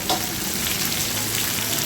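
Oil sizzling in a frying pan while the base for a bottle gourd leaf dish cooks, a steady, close hiss with a faint stir now and then and no talking.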